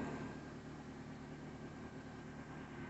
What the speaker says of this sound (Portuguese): Rotação estável. Motor tá frio ainda, primeira partida.